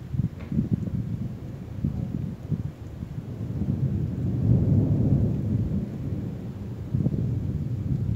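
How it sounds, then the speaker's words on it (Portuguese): Low rumbling thunder rolls through as a storm approaches, a long sustained boom swelling and fading over several seconds with no speech. "Esse é um trovão, vão vir muitos."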